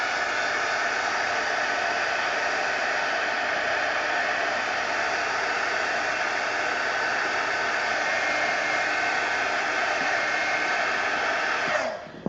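A hair dryer blows steadily and loudly to dry paint on an adult coloring page, a constant broadband whoosh running unbroken for about twelve seconds before cutting off abruptly at the end.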